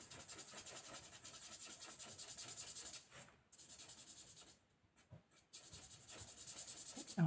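Colored pencil in olive green shades over a handmade card with firm pressure: soft, close scratchy rubbing strokes in a steady rhythm, pausing briefly twice before resuming.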